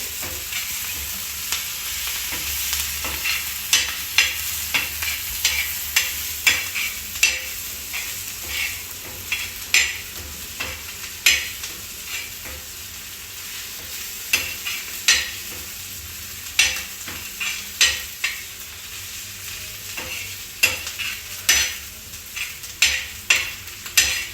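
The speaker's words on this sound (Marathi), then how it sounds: "मिरची, लसण आणि जिरं छान परतून घेऊ." Chilli, garlic and cumin sautéing in hot oil for a traditional Banjara chole dish, a steady close sizzle broken by frequent sharp scraping stirs of a spoon in the pan.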